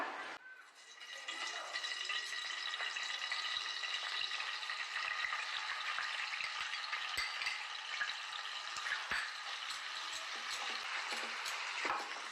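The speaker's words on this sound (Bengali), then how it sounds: "এবার আমি দিচ্ছি পেঁয়াজ বাটাটা" Onion paste fries in hot oil spiced with cardamom, cinnamon and cloves for a Vetki fish dish, a dense steady sizzle up close with occasional spatula clicks, no voices.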